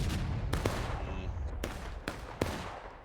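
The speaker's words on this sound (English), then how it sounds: "Does that sound like pistol? No, it's carbine." Carbine gunfire in a multiplayer battle game rings out as sharp, separate shots, about five cracks spaced irregularly over a few seconds, with distant battle noise underneath.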